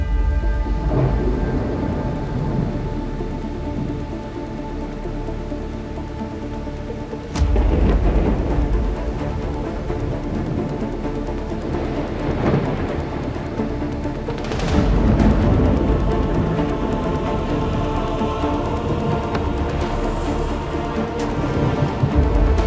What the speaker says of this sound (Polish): przyszła do nas burza wszechczasów